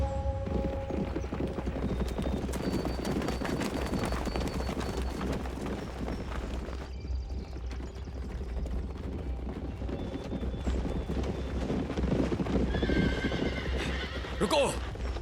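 Horses gallop with rapid clip-clop hoofbeats and loud neighs in a Chinese martial arts movie, with dubbed speech running over the busy, close action throughout.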